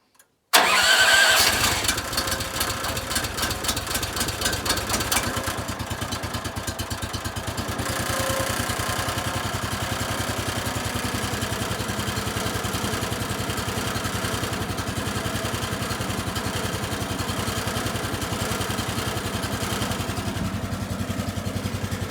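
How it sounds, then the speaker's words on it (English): Gasoline engine on a Woodland Mills HM130 sawmill cranks and catches within a second, then settles into a steady, close, continuous idle that runs on alone for about twenty seconds. "I'll start it up, warm it up and run it before I start cutting anything flat out"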